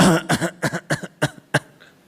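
A voice imitates coughing, a run of about six short, sharp coughs in quick succession that trail off near the end.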